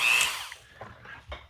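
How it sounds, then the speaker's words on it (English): A Dremel rotary tool fitted with a very small drill bit whines loudly as it bores holes into the saucer section of a 1:1400 scale U.S.S. Enterprise model, then eases off to quieter bursts of contact. "I'm going to still drill holes into the saucer here for the lights to come out"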